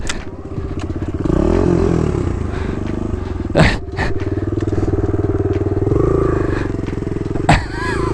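A 110cc dirt bike engine revs hard and unevenly during a wheelie attempt, a steady loud drone with two sharp rising bursts near the microphone and a brief clatter.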